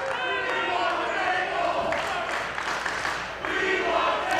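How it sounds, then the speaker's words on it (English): A wrestling crowd chants "We Want Tables" at a women's wrestling event, a loud, rhythmic mass of voices filling the arena, with scattered shouts and claps mixed in. "the crowd is chanting the We Want Tables"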